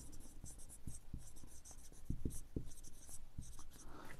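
A pen scratches across paper while a math solution is worked out by hand, close and quiet, in quick strokes and taps with brief pauses, and no talk.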